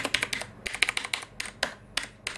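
Rapid, uneven keystrokes on a Das Keyboard S Professional mechanical keyboard: crisp, clacky clicks in quick bursts with short pauses, close up and alone with no talking.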